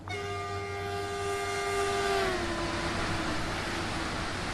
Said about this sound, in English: Look, here comes a train.